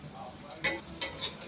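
Palm fruit fritters (taler bora) fry in hot oil, a soft bubbling sizzle broken by a couple of sharp crackling bursts, close and fairly quiet.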